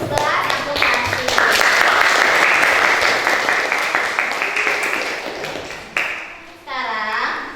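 Classroom applause: a group of students claps together in a dense, sustained burst that slowly fades, then a short second round of clapping follows, with a few voices mixed in.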